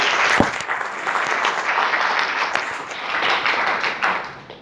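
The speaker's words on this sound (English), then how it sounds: "I'd love to give Danielle a round of applause" A room full of people breaks into a round of applause at the Lotame Ignite APAC marketing event, with steady, dense clapping that swells and holds for several seconds and has no talk over it.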